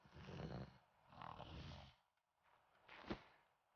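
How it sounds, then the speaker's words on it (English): A creature in the ARK video game snores in long rough breaths, rising and falling in steady cycles, moderately close with a short snort near the end and no talk over it. "please stop snoring and eat your berries"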